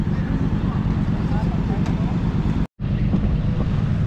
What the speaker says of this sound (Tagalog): Lakas itong mga motor na ito.